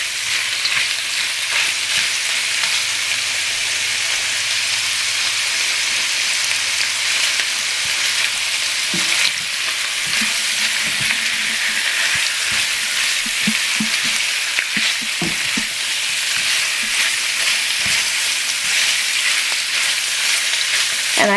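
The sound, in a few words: shrimp frying in butter in a pan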